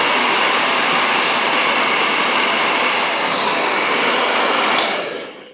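Handheld heat gun on its lowest setting 1, warming a golf club grip wrap, blowing a loud steady roar of rushing air with a fan whine for several seconds before cutting off and spinning down.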